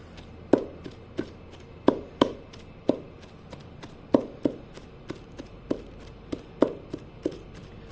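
Shami kabab mixture of chicken being chopped by hand with a knife on a board, a steady series of sharp, close knocks with short pauses, no voices.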